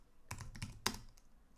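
A command is typed on a computer keyboard, a brief quiet burst of several close key clicks with one sharper keystroke near the end, with no talk.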